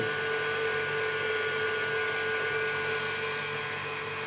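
An electric mixer runs steadily at medium speed as it whips egg whites with caster sugar for meringue, giving a loud, continuous whirring hum with no break and no voices.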